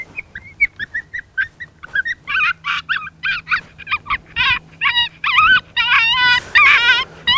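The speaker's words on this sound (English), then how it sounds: "So I'm gonna let you guys hear this Coyote Pup Distress number 3" An electronic predator call plays a coyote pup distress sound, a rapid run of high yelping whimpers and squeals repeating in quick bursts, loud and close with no talking.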